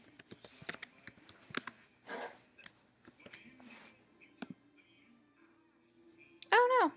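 A password is typed on a computer keyboard in quiet bursts of close, crisp key clicks, broken by short pauses, soft whispered voices and a brief spoken remark near the end.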